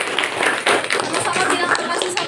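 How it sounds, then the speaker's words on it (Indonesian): A classroom group claps for a student, a dense patter of many hands that runs through the whole short moment with voices mixed in. "Boleh tepuk tangan ke Mutiara."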